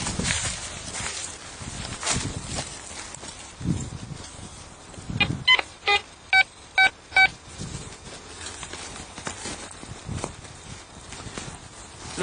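A Quest Q40 metal detector gives a run of five short, evenly spaced beeps in the middle, with scraping and digging noises at a hole around them and no talk.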